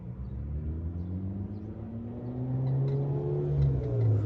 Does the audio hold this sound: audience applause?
no